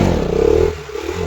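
A 220 cc motorcycle engine held at high revs around 5000 rpm during wheelie practice, a loud steady drone that drops off sharply partway through before picking back up.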